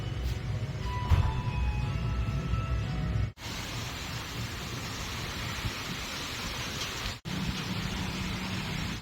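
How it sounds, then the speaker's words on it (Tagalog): Heavy rain falls during stormy weather as a dense, continuous hiss and roar. It is broken by two abrupt cuts and has faint tonal background sounds at the start. "Lakas ng ulan."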